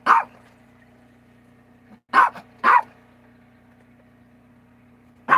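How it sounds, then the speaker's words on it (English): A dog named as excited and convinced something is going on outside gives three loud, close barks, one at the start and a quick pair in the middle, over a steady low indoor hum. "What are you barking at, Chico?"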